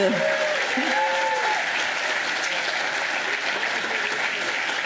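Sustained applause from an audience at Harvard's Enterprise Research Campus groundbreaking for Tishman Speyer, an even wash of many hands clapping at steady volume, with brief voices audible early on.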